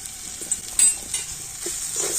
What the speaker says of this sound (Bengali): তো এবার আমি সব কিছু ভালো করে নাড়াচাড়া করে নেবো